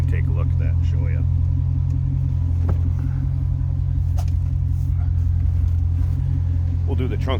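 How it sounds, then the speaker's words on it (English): A 2005 Chevrolet Corvette coupe idling with Flowmaster exhaust, a steady deep low rumble close by, with brief faint clicks and background sounds over it. "You can hear the Flowmasters, little rumble coming out of those."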